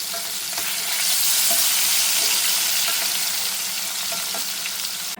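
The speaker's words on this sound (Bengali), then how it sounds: "পনির ভাজা হচ্ছে এখানে" Paneer frying in a pan, a dense, loud, even sizzle with faint stirring scrapes underneath, close up and uninterrupted by talk.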